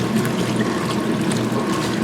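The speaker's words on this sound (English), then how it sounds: "I love when the water like moves down below the holes and you see the water rush in through the holes" Water rushing into a washing machine tub through the drum holes, a continuous churning, splashing flow heard up close and steady throughout.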